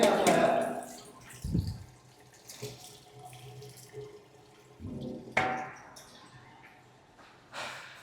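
Plates washed by hand under a running tap, with intermittent water splashing, clinks and rinsing, and a voice speaking briefly at moments.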